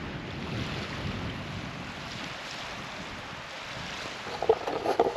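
Tide water racing in over a beach, a steady broadband wash of surf and moving water with wind noise on the microphone, louder splashes rising near the end.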